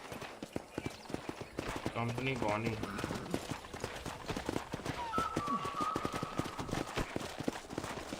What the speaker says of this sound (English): Okay, let's see if you can still ride a horse.